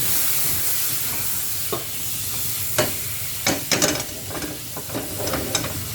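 Garlic sizzles and crackles steadily in a hot pan while being stirred, with occasional sharper spits and scraping clicks over a constant hiss, loud and close.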